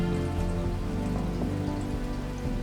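Steady, heavy rain pours down during the African savannah rainy season, a dense, continuous patter of drops striking the ground close by.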